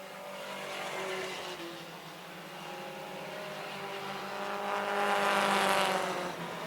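Several race cars battle around a track at a distance, their engines droning in overlapping pitches that swell and fade as they pass. The sound is fairly faint and comes without commentary.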